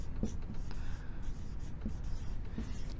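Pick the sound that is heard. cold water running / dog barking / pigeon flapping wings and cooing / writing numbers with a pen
writing numbers with a pen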